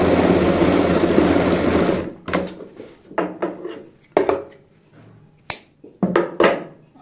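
A sewing machine stitches the boat neck of a kurti, running in one steady loud stretch for about two seconds, then continuing in short stop-start bursts separated by quiet pauses.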